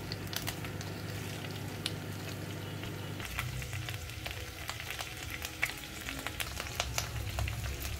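Four or five betel leaves hit hot coconut oil with curry leaves, making a continuous close sizzle that swells as the leaves go in and keeps frothing steadily.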